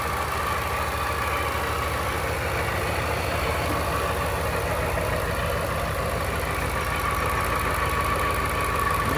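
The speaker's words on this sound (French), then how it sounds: "Et voilà notre moteur." The 5-litre V8 of a 2019 Ford F-150 Shelby off-road truck idles steadily with a deep, even rumble and a faint rattling knock, continuous and close throughout.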